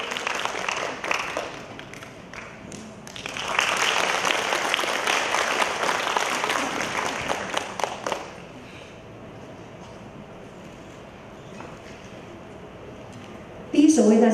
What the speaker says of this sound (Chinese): 再次以热烈掌声欢迎我们的张阿山老师